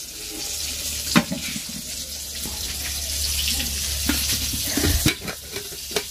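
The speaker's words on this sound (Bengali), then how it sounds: "এখানে আমি বেগুনের ভাজাটা বসিয়ে দিলাম, বেগুন ভাজা করব" Eggplant slices sizzle steadily in a frying pan, joined by a few sharp clinks and scrapes of stirring and some splashy watery sounds, heard close and without speech.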